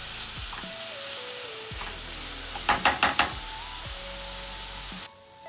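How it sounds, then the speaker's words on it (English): Onions, peppers and garlic sizzle steadily in a pan as they sauté, a soft continuous hiss with a quick run of four louder clatters or stirring knocks midway. "I have added the onions, peppers, and garlic, and I'm sauteing them until they have wilted."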